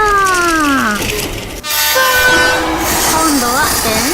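Toy Thomas the Tank Engine train running with a loud, sliding horn toot, followed by a steady rumbling rattle of motion and another wavering horn sound near the end.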